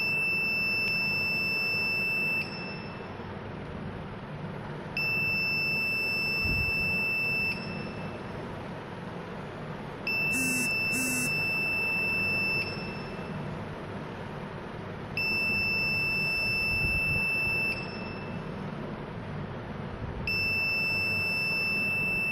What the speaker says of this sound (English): experiment number 1, buzzer.